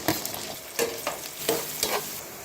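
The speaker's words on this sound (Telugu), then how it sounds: "ఉల్లిపాయలు ఫ్రై అవుతున్నాయి" Onions, green chilies and curry leaves frying in oil, with a steady close sizzle broken by four or five rhythmic scraping strokes of a spoon stirring the pan.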